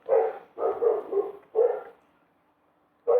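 A dog barks close by in short bursts, a single bark, then a quick run of several, another, a pause, and one more.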